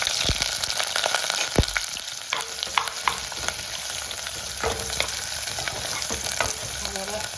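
Chopped onion frying in a pan for a simple vegetable stew: a steady close sizzle broken by scattered clinks and scrapes of stirring, with no voices.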